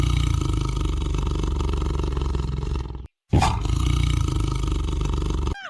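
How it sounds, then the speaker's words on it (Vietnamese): A tiger roars loudly and up close in two long, rough bursts separated by a short moment of silence, with no voices over it. "Tiger."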